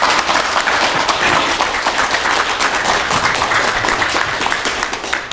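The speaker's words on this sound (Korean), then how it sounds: "큰 박수로 맞이해 주시기 바랍니다" An audience at a lecture on Daegaya history claps in sustained, dense applause to welcome the speaker, loud and even throughout before tapering slightly at the close.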